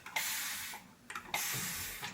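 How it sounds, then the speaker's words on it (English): Two bursts of fine hissing spray from a spray bottle onto a braided scalp, each lasting about a second, with a short pause between them, close up and fairly quiet. "we're just going to start by spraying our scalp"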